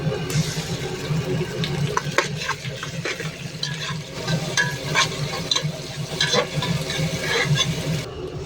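Chopped onion fries in a pan with cumin and coriander. A moderate sizzle runs throughout, broken by repeated scraping and clacking of a spoon stirring against the pan, with no voices.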